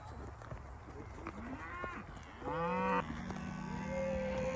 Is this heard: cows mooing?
yes